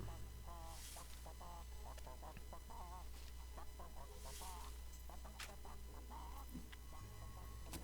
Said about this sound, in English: Ah, there's the chickens.